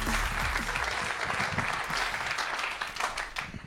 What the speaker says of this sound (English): Give it up for a very funny man, Mr. Trevor Moore, everybody. Let him hear it